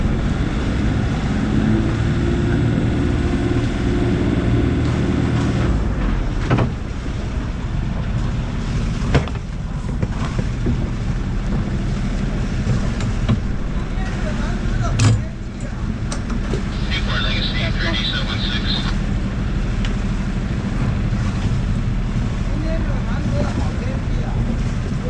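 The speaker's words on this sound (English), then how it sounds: "let's go ahead and motor the engine a little bit" A sailboat's engine motors while anchored at White Cove, Catalina Island, during a check for transmission oil leaks, producing a steady, low rumbling drone with wind buffeting the microphone, under ongoing talk.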